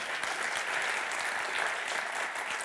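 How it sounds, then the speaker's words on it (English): Steady applause from an audience at the European Mobility Week 2017 award ceremony, a dense even clatter of many hands clapping throughout. "So you can clap yourselves now as well."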